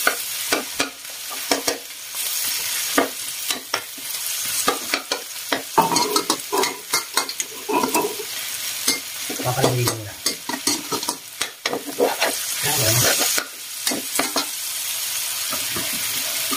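Onions stir-fried in a pan for spicy pork and chicken with pineapple: continuous loud sizzling close up, broken by frequent scraping and clanking of a spatula stirring against the pan.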